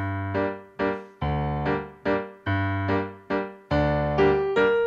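Piano plays part 6 of the Howl's Moving Castle theme, a sequence of about nine sustained notes and chords with clear attacks and gradual decay, solo with no talking.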